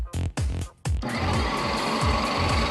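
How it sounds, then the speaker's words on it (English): Oil film pressure test machine running with its race bearing fully submerged in lubricating oil: a few stuttering starts and stops, then a continuous close mechanical whir with a rhythmic knocking pulse. "With the machine operating, we are going to see how much pressure is necessary to break the lubricating oil film."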